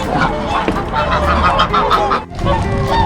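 Busy chorus of quacking and honking ducks and other waterfowl in Reykjavik, Iceland, dense and continuous, with a brief dip midway and faint human voices mixed into the flock noise.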